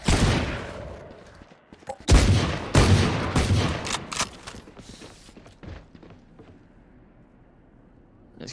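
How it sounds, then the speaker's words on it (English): Sniper rifle fire in a Valorant tournament match, with a few sharp gunshot bursts standing out over the ongoing game sounds and loud at times. "And oh, Alec getting the first kill onto Leverage with the sniper."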